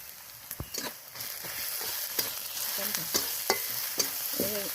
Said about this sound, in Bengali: আমি ভালো করে কষিয়ে নেব একটু হলুদ দিয়ে দিলাম লঙ্কার গুঁড়ি দিয়ে দিলাম